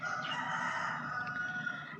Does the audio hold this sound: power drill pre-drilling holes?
no